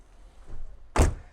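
The frameless door of an Audi A5 2.0 TFSI coupe opens with a soft latch click, then a single sharp, close mechanical clunk, with no voices.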